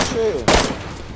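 Gunshots in a video game: one sharp loud shot in the middle with a decaying tail, following a voice over the game's background noise.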